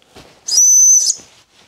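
A single shrill blast from a trail running safety whistle, piercing and steady for about half a second, sounding close and loud against near silence.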